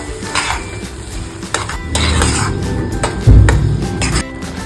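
Sugar being stirred into carrot halwa in a pan, with steady scraping and repeated metallic clinks of a spoon against the pan, close and fairly loud, with a heavier knock near the end.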